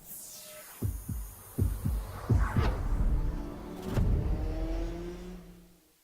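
Racing kart engine at a South African kart championship round at Zwartkops, a series of short rising revs and bursts followed by a sustained drone that sweeps up and then fades away as the kart moves off.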